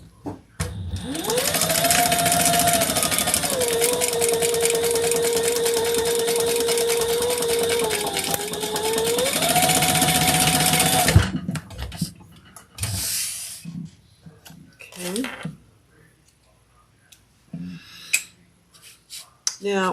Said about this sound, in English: now we're going to sew those together at the seam allowance in the pattern